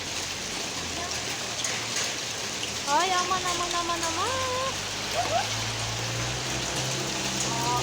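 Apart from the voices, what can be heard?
hail falling heavily on a roof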